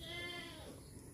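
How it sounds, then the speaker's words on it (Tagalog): A goat bleats on a farm, a harmonic wavering call that fades after a brief moment, heard alone without talk. "naririnig niyo yung kambing namin"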